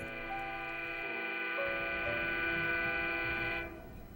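A commuter train heading into New York City, its loud horn blaring in one sustained blast for several seconds over the rumble of the rails before cutting off.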